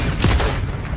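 A heavy, loud blast of gunfire from a giant cannon booms out, a dense rumble with a couple of sharper cracks inside it.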